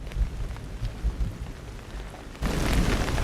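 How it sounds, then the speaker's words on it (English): A rain sample used as ambient music texture hisses steadily with low rumbling, then swells abruptly louder and brighter partway through, with no voices. "It's just like a rain sound or something."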